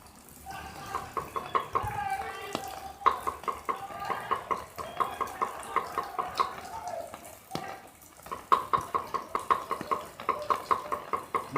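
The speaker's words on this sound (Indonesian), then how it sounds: "bumbu yang tadi kita sudah ulek, yang sudah kita sangrai dan ulek, itu kita campurkan di bumbu rajang ini" Roasted, ground Balinese base genep spice paste is stirred into a bowl of finely chopped spices, giving a steady run of soft scraping and wet clicking strokes that continues throughout.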